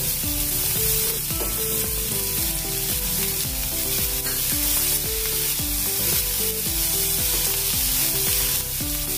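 Finely chopped onion and green chilies fry in a hot pan with a loud, continuous dense sizzle, steady throughout and alone, with a faint tonal pattern running beneath.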